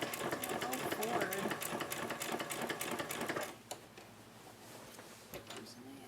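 A sewing machine stitches a homemade protective fabric mask, running in a fast, close, rattling burst for a few seconds before stopping, leaving quieter handling sounds and a faint voice.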